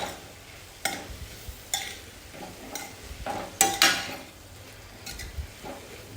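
Cabbage curry being mixed with spices in a pan, with a soft sizzle underneath and several distinct scrapes and knocks of the spoon against the pan at uneven intervals.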